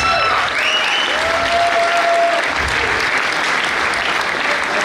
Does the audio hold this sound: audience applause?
yes